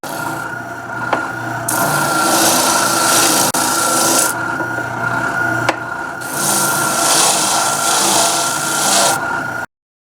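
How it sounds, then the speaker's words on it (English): A power sander rasps against a mill speed vise handle in a workshop, loud and close, in long steady passes separated by brief pauses, with no talking. "let's take this in the other room and see what we can get done with the sander"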